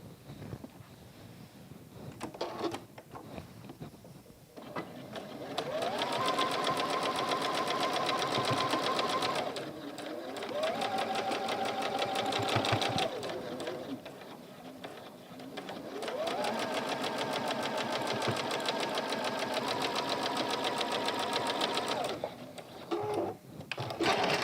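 A sewing machine stitches rows of pieces onto either side of a quilt square, running in several long steady bursts with short pauses between them, close and fairly loud, while someone talks quietly in the gaps.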